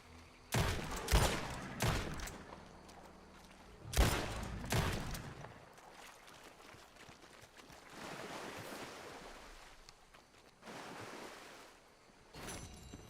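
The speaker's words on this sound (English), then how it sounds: "So let's go ahead and pull out our gun" Several sharp gunshots crack out in Red Dead Redemption 2, loud isolated reports spaced a few seconds apart with softer ambient outdoor noise between them.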